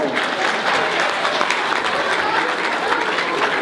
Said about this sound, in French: Sienne Carrier, mesdames, messieurs, applaudissements